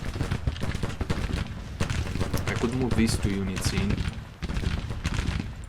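Civil War battlefield gunfire from the strategy game Grand Tactician: The Civil War, a dense continuous crackle of massed musket fire with distant booms running steadily beneath someone talking throughout.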